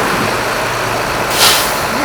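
A Mercedes-Benz Axor rigid truck engine runs with a loud, steady diesel roar, swelling briefly as the throttle rises near the end of the two-second span.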